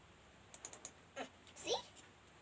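A foldable keyboard tapped with four quick, light keystrokes in a short burst, followed by a couple of brief, faint voice sounds.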